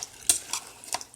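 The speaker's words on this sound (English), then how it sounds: "Okay, I'm gonna stir this up." Spoon stirring apple cobbler filling with vanilla extract in a bowl, three short scraping strokes close up, with quiet gaps between them and no talking.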